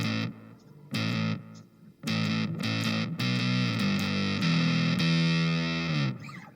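Distorted electric guitar plays the break of a song, a driving run of chopped, stop-start chords with abrupt cuts between them, loud and up close, ending on a sustained note that fades.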